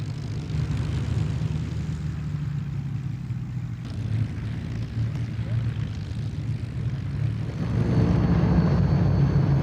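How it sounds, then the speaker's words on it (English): The big Griffon engine of a Spitfire starts up at an airshow, a deep, rough piston-engine drone running steadily at mid distance and swelling louder near the end. "There's a big Griffon engine starting up."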